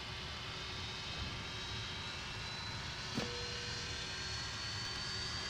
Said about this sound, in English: Oh, I love the sound of those engines.